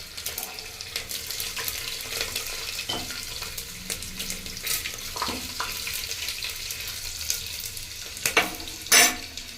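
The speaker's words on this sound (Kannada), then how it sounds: "ಸೊ ಒಗ್ಗರಣೆ ಒಂದು ಬೆಳ್ಳುಳ್ಳಿ ಹಾಕೊತಾ ಇದ್ದೀನಿ ಒಗ್ಗರಣೆಗೆ." Garlic sizzles in hot oil as a tempering for Jilebi fish sambar, a steady crackling hiss throughout with a couple of louder clatters near the end.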